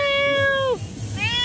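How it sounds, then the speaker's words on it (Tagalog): A cat meows twice, the first a long drawn-out call and the second a shorter one, close and clear over low background noise in an outdoor town setting. "kamusta yung kaibigan natin pusa"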